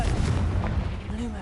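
A Confringo blasting-spell explosion in the video game Hogwarts Legacy: one loud, broad, rumbling blast that fills the short moment and fades out.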